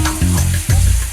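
Mustard seeds hit hot oil in a pan for Kerala pachadi on an Onam cooking show, a loud, close, brief burst of hissing and crackling over a low hum, with no talk.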